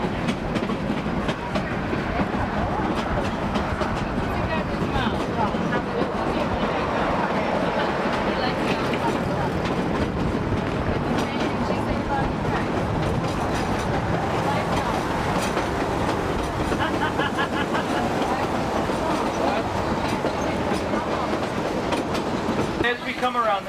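A tourist train on the Clear Creek line in Colorado rolls steadily along the track, its wheels giving a continuous rumble and rhythmic clatter, with someone narrating over the running noise throughout.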